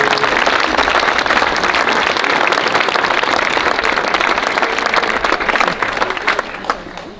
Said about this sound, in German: das ist nochmal ein Applaus wert für die Jungen